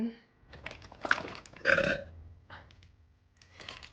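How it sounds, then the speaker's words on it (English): A woman lets out a short, close burp while doing her makeup, a single throaty belch set among quiet chatter and small handling noises. "is it still cool to burp on the internet?"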